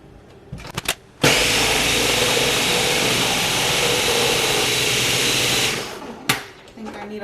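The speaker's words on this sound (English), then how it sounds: "And let this blend." A kitchen blender whirs a mackerel marinade with garlic powder and olive oil, a loud, steady motor roar lasting about four and a half seconds before cutting off, with brief handling knocks before and after.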